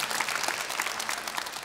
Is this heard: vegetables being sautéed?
no